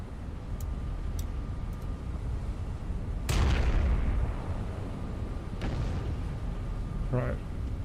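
Battleship guns fire in the Battleship Command naval combat game: two heavy, booming broadside blasts several seconds apart roll out over a steady background hum, with someone talking in between.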